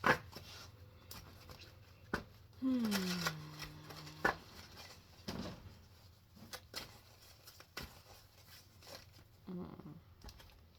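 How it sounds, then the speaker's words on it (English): Tarot cards are shuffled and riffled in short bursts of soft flicks and taps, quiet and close, with a brief tonal squeak in the middle. "let me give these tarot cards a shuffle"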